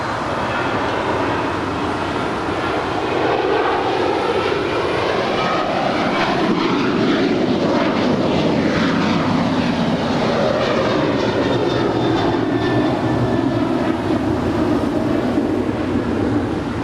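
Alaska Airlines jet, flight 546 bound for Newark, roaring down runway 25 right at LAX on its takeoff roll, a loud sustained engine rumble with whining, shifting tones that build and sweep across the full length.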